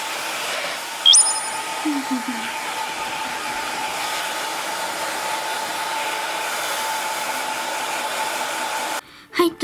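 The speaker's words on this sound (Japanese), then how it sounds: "今からね、髪の毛を乾かしていきたいと思います。" Hair dryer blowing steadily at close range as hair is dried during a home night routine, a continuous airy whir that cuts off abruptly near the end.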